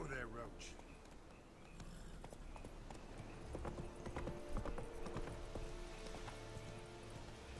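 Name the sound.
horse Roach's hooves clip-clopping in Witcher 3 video game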